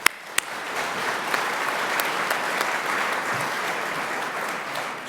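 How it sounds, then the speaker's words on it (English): An audience applauds at a political speech in Bolton with a thick, sustained roar of many hands clapping. Two sharp close claps sound at the start before the full ovation settles in. "give you a round of applause."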